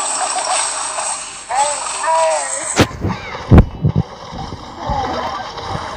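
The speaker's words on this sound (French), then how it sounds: "son petit canon, il est énervant" A small cannon in a video game fires several sharp booming shots in quick succession with splashy impacts, the blasts loud and close, while a player talks over the game sounds.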